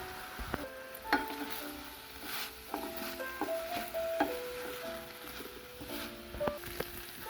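Potato pieces and fenugreek leaves frying in a pan, a soft sizzle under irregular clinks and scrapes of stirring.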